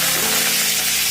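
Mustard seeds and urad dal crackle and sizzle in hot oil as a steady, close hiss with no talking, for a brief moment.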